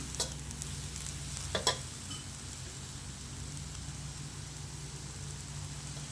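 Glass noodles and sliced cabbage stir-fry in a pan with a steady, soft sizzle, broken near the start by a few brief clacks of a utensil against the pan before settling into an even frying hiss.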